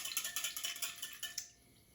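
A spoon stirs a half gallon of homemade lemonade in a pitcher, giving a quick run of close clinking and swishing strokes that stops after about a second and a half.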